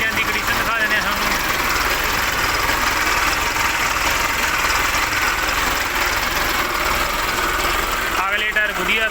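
An Arjun 555 DI tractor, a 2018 three-speed model, idles steadily and close by with a continuous low engine drone. Brief voices or clatter break in near the start and end.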